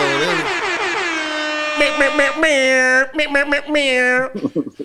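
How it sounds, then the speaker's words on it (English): Loud, blaring air horn blasts, a long sustained tone followed by several short choppy honks in quick succession. "I got my own air horns."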